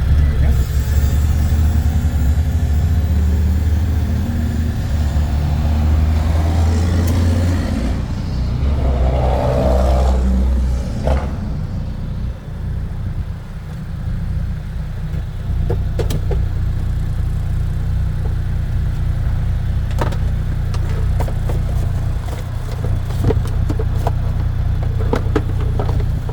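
A 2025 CF Moto U10 Pro side-by-side runs steadily with a low, rumbling engine drone, heard up close from inside, with a few clicks and knocks and someone talking over it.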